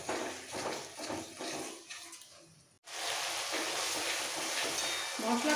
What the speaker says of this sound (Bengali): এবার একসাথে কষাবো।